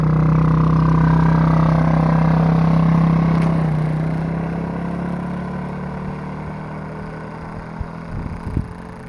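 A tiny quad ATV engine hums steadily at part throttle, fairly loud at first, then fades as the machine heads away down a hill, leaving a faint drone and a few brief knocks.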